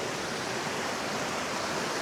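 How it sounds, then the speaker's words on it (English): A small mountain stream spills like a little waterfall on a hillside hike above a Norwegian fjord, giving a steady, close, broadband rush of water with no pauses and no talk. "look at the stream. It's like a little waterfall here."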